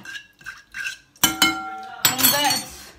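Spoon scraping and clinking against a bowl while a sardine mixture is stirred with pepper, hot chili and salt, a few sharp metallic knocks after softer scraping, close up, with some speech at the start.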